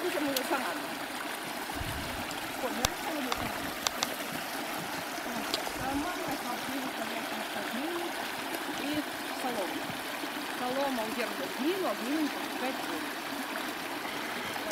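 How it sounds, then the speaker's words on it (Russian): Water running and trickling over stones at a washed-out, damaged sluice, a steady close babbling flow with small splashes that holds throughout. "где вода бежит по камням"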